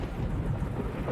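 Thunder rumbles during a storm in Fernbus Simulator, a deep, continuous low roll with a faint hiss of rain, filling the whole short stretch without any talk.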